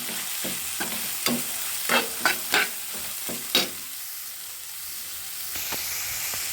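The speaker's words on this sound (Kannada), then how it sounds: "ತಗೊಂಡಿರುವಂಥ ಕ್ಯಾರೆಟ್ ತುರಿಯನ್ನು ಸೇರಿಸ್ಕೊಳ್ತಾ ಇದ್ದೀನಿ ಇದನ್ನು ಇದರ ಜೊತೆ ಹಾಕಿ ಚೆನ್ನಾಗಿ ರೋಸ್ಟ್ ಮಾಡಿ" Grated carrot roasting with tomato in a pan, a low steady sizzle punctuated by several sharp spatula scrapes and taps in the first few seconds, then calmer frying alone.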